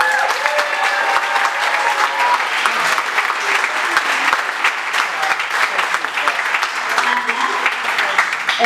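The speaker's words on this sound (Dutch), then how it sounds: "geef ze een groot applaus voor het lef, dames en heren" Sustained applause from a large audience after a Latin samba dance demonstration at a dance school's closing ball, steady and loud throughout with dense clapping and no talking.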